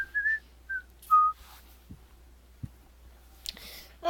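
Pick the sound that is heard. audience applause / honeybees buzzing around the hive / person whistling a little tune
person whistling a little tune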